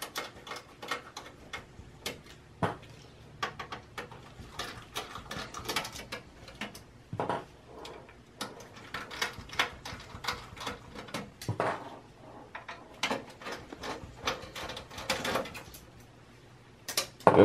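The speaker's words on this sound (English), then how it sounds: "I have to use Torx T10, and there are four screws from the power supply you have to remove" A Torx T10 driver backing four screws out of the power supply on a Dell PowerEdge server: small faint ticks and clicks, scattered and irregular, with light metallic handling noises in a quiet room.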